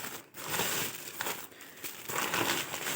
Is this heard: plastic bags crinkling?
yes